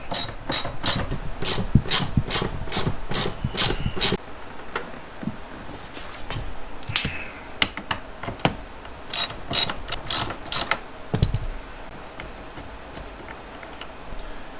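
Ratchet wrench loosening the bolts on a car seat rail, rapid clicking in quick bursts separated by pauses and quieter handling noises, with no talking.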